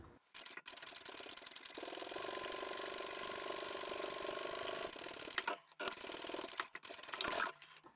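Sewing machine stitching a seam on a large fabric bag, a steady mechanical whir running continuously for several seconds with brief breaks near the end, fairly quiet and without talk.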